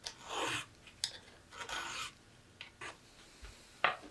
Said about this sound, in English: where you can take your file all the way around, is going to lead to just a bit longer and more natural strokes